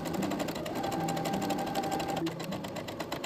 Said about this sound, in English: take it over to the sewing machine and sew everything together